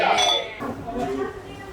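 Glasses clink together in a toast at a restaurant table in China, a bright close clink at the start followed by a softer ringing tail, with voices murmuring underneath.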